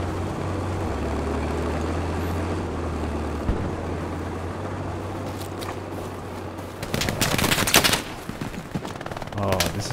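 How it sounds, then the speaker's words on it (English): Machine gun fire rattles across a Hell Let Loose battlefield on the Eastern Front, under a steady rumble of combat noise, with a louder, closer burst of rapid shots near the end. "There's a machine gun somewhere."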